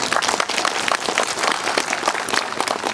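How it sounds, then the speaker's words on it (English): Audience applause at a Belfast Comic Con panel with Paul McGann, a dense, steady wash of many hands clapping close and loud throughout, with no talk over it. "I love the sound of applause."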